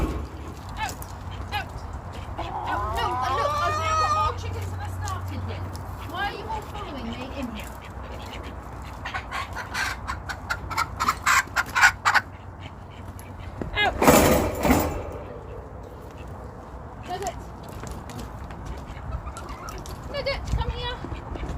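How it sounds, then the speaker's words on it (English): Ducks quack in scattered bursts across a noisy outdoor background, with voices and a few sharp clatters mixed in. "They are ducks."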